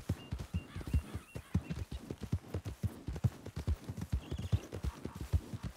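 Horse hooves clip-clopping in Red Dead Redemption 2, a steady close rhythm of many hoofbeats at a walking or trotting pace, heard alone with no talk over it.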